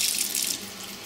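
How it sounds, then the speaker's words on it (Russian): Tap water pouring steadily into three cups of powdered mix, a close, continuous hissing splash for about a second that eases slightly partway through, with no voices. "Тут 3 стакана, я сейчас в них добавлю, по идее, 2 стакана воды"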